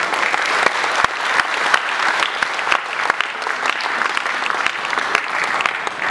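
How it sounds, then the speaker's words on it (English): A class audience applauds a professor, dense sustained clapping from many hands throughout, fairly close and even in loudness, with a few sharper individual claps standing out. "Please give her a round of applause"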